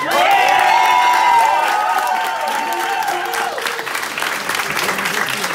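Dense, continuous clapping from a dance-event audience after a Lindy hop competition, topped by loud sustained cheers and whoops early on that ease into steady applause.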